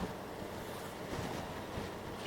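A constant, dense roar of wind rushing past while riding a 2019 Honda Goldwing motorcycle on a breezy day near Halifax, steady and close with no talk.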